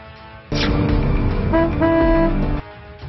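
A single sustained car horn blast lasting about two seconds, loud and nearby, with a steady tonal buzz over low road rumble that continues faintly before and after.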